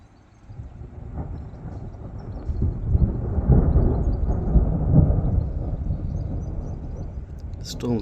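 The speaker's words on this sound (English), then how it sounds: "We're having a bit of a thunderstorm at the moment." Low rolling thunder rumbles through a spring thunderstorm, building and sustaining a deep, loud roar for several seconds before easing slightly, with no speech over it.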